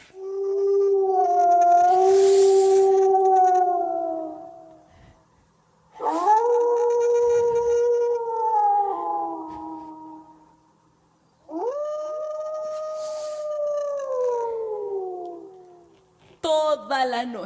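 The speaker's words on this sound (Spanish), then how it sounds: "ese aullido infernal comenzó a sonar" Long, eerie wailing howls at night, three drawn-out cries rising and sliding down in pitch with short pauses between, loud and close with no talking.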